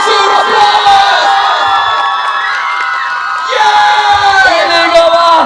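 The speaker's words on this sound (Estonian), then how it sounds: "Tehke anname suur aplaus!" A large crowd cheers, whoops and shouts for performers at a youth summer school show, loud and continuous with a brief dip midway before swelling again.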